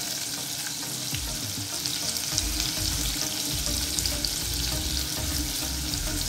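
Chopped onions hit a hot pan of softened tomatoes while making South Indian style upma, giving a loud, steady sizzle and crackle of frying that continues without pause, with a few stirring scrapes beneath.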